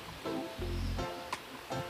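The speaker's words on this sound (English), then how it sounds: "I can hear water." Water rushes continuously at Konoko Falls in St. Ann, Jamaica, a steady broadband roar with faint rustling layered over it.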